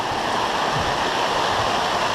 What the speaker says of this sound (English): it's really loud and noisy. It's coming down. It's pouring.